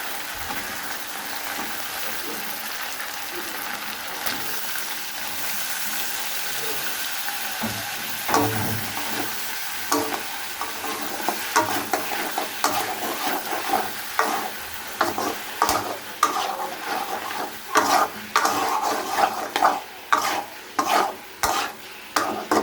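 Potatoes and vegetables fry in a pan with a constant sizzle, while stirring adds repeated scraping and clattering strokes that grow louder and more rhythmic toward the end, heard close with no speech.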